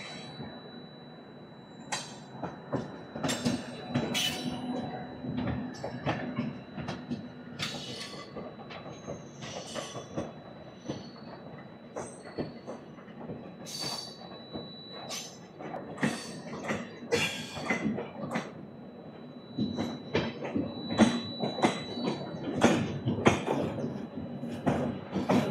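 The Toofan Duronto Express, train 12213 from Yesvantpur to Delhi Sarai Rohilla, runs through Delhi Kishanganj station without stopping, heard from on board as a rapid, irregular clatter of wheels over rail joints with squeals and metallic clinks.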